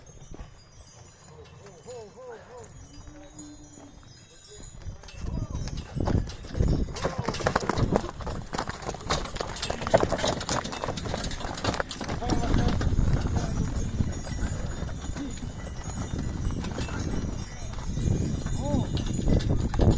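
Steady clip-clop of a pair of black Percheron horses' hooves, close by, with people talking over them.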